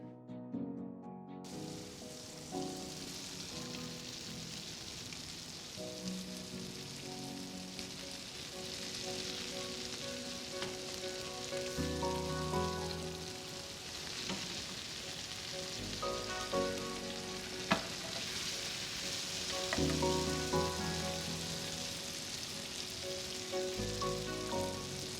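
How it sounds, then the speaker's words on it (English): Bacon sizzles and crackles in a pan for pasta carbonara, a steady close hiss with scattered pops running throughout beneath background music. "The bacon renders out with this delicious, smoky, bacony flavor."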